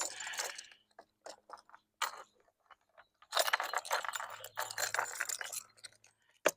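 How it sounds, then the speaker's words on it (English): Keys on a crowded key ring jangle and clink close by in short metallic bursts, then a longer rattling jingle as a bike lock is worked open. "Too many keys on this ring is the problem."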